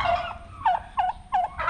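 A young turkey gobbles in several short, close, bubbling bursts spaced a fraction of a second apart, over faint background noise.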